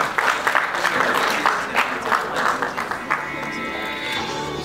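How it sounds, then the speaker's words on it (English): Audience at an award ceremony in Lagos claps in a dense, lively burst that thins out toward the end, with some background voices mixed in. "A round of applause, please."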